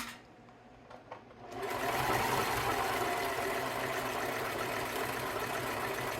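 A sewing machine stitching during a sewing lesson, including a reverse stitch: quiet at first with a few faint clicks, then a steady, loud mechanical whir that runs continuously to the end.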